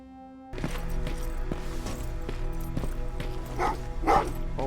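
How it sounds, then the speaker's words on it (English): Dogs bark repeatedly in the Terminator: Resistance video game, sharp yaps spaced through a few seconds over a low ambient game drone, with a louder burst near the end. "what's with the dogs?"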